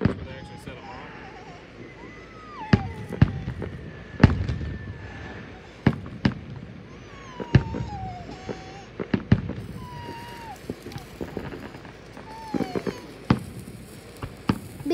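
Sharp fireworks bangs burst out one after another at irregular intervals, some whistling as they rise, with excited voices calling out between the blasts.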